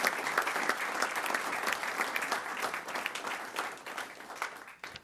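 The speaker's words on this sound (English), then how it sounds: "Let's have a nice round of applause for those students and teachers as well." A round of applause for students and teachers at a regular school board meeting, dense steady clapping from a crowd lasting throughout and tapering slightly at the end.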